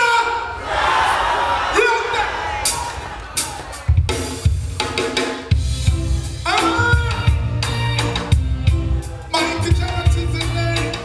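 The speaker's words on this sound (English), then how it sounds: "So, cheer!" Crowd at a Brooklyn reggae sound system event cheering and whooping loudly over booming music, with bursts of shouts rising and falling throughout.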